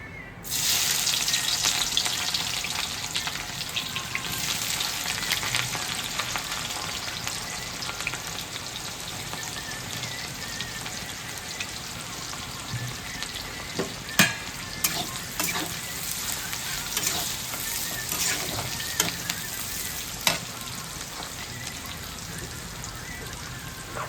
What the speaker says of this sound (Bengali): তেলটা গরম হয়ে গেছে, আমি এবার পেঁয়াজগুলো দিয়ে দিচ্ছি